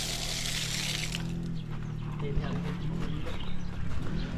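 A strong, steady rush of water pours from a newly installed pump motor at a barangay hall, a continuous broadband flow heard close while people talk over it throughout.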